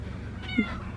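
A cat gives one short meow in the middle of a quiet outdoor moment, near and clear against faint background noise.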